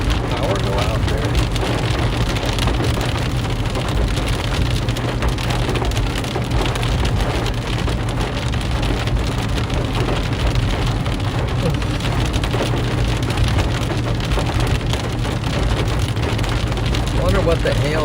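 Heavy rain mixed with large hail pounds surfaces continuously during a Kansas storm, a dense, loud, unbroken clatter and hiss with low rumbling beneath, and voices are heard over it.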